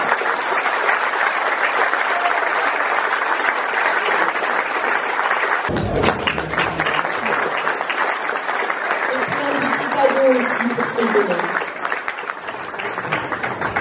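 Audience at a village festival in Saint-Étienne-de-Tinée applauding, steady dense clapping from a crowd throughout, with a few voices briefly rising over it midway.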